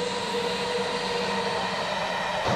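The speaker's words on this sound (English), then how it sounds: "Stupid train comes and I'm just gonna wait for it to pass." A train rolls past close by, a steady, loud broadband rumble and rattle that fills the whole clip without pause, with no talking over it.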